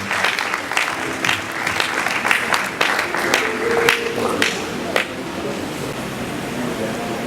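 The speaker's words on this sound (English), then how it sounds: "Please, may we put a round of applause to our professor and grandfather of educational technology." Sustained applause from a conference audience at a university educational technology gathering, steady crowd clapping filling the hall throughout, with faint background hum and a few sharper claps standing out.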